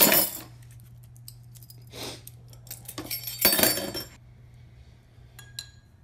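A metal spoon stirs chocolate milk in a glass, sounding as bright clinking taps and scraping swirls in several short bursts against a steady background hum.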